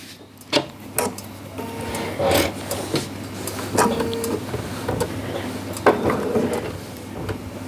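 Sewing machine stitching fusible raw edge applique on a quilt, a steady low motor hum with whirring stitch texture and scattered sharp clicks and rubs of fabric being pulled, close and moderate.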